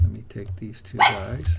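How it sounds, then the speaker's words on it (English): Dog barking indoors, a couple of short barks near the end under someone talking close by. "Oh, that's my dog"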